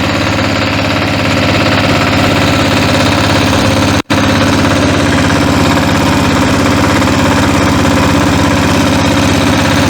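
Motor Sich MB-9DE walk-behind tractor with its engine running steadily at close range, a loud, even thrumming mechanical drone that continues throughout with only a momentary break partway through.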